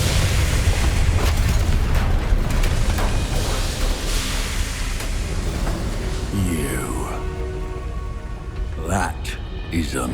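In the video game Hogwarts Legacy, a Bombarda spell sets off a booming explosion over dense, noisy game sound, with crackling debris and scattered pops trailing off afterward.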